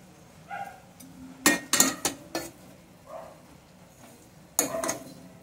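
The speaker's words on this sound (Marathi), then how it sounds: "तर आता आपण हे चांगलं भाजीमध्ये मिक्स करून घेऊया." A metal spoon stirs grated coconut into a vegetable dish in a pan, giving scattered scraping and clinking knocks in uneven bursts, near and moderately loud.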